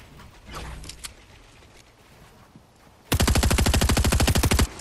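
Gunfire in the video game Fortnite: faint scattered shots and rustling, then a loud, rapid burst of automatic fire lasting about a second and a half near the end.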